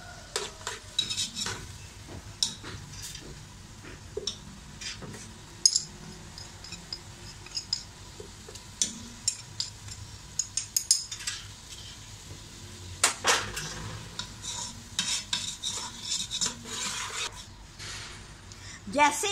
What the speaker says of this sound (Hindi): इसमें अब जी मैं मसाले डाल दूंगी।